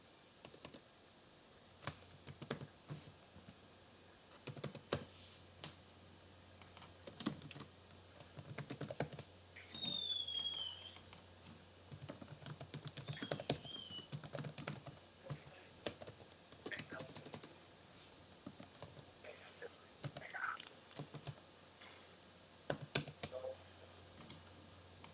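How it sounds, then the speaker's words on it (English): Someone types fast on a computer keyboard, a long run of quick, uneven clicks and key taps, soft and close, with low murmured speech now and then underneath. "You're very fast in typing"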